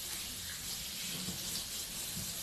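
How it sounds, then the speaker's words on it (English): A kitchen tap runs steadily as a cooking utensil is rinsed, a close, even hiss of water with no talking over it. "I need to rinse this off real quick"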